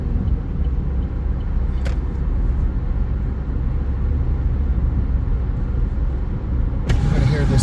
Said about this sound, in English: I'm going to hear this semi-truck coming up. They don't have a trailer. You can hear that turbo